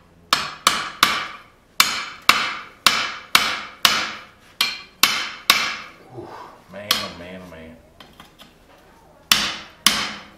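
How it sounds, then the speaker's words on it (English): Hammer setting a rivet on a pair of forging tongs: about a dozen sharp, ringing metal blows in a steady rhythm, a short lull with softer scraping, then two more strikes. "All right, see if we can set this rivet."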